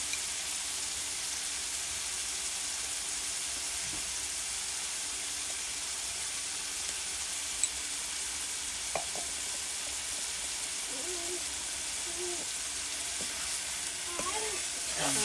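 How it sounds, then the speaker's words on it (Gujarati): Spices and ginger-garlic red chili chutney hit a hot pan of jackfruit curry, giving a steady close sizzle with light stirring scrapes and occasional clinks. "ધાણા જીરું અને ગરમ મસાલો અને આદુ લસણની લાલ મરચાંવાળી ચટણી નાખી દઈએ"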